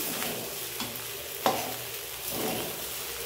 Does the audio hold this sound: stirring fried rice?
yes